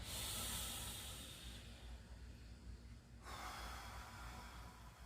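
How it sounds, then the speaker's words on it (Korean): A person breathes during a lower-back disc exercise: a long, close, airy inhalation, then a brief pause, then a slower exhale, with no speech. "들여마시면서 내쉬고 다시 들어가줘서"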